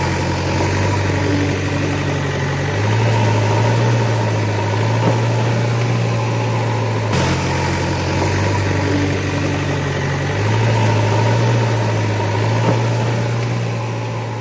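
Steady diesel engine of a JCB backhoe idling continuously at close range, a low droning rumble that shifts slightly in pitch now and then, with no voices.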